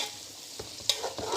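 Whole spices and onions being stirred as they fry in a pot while making chicken biryani: a sizzling hiss with a few soft scraping strokes of the spoon, close by and with no talking.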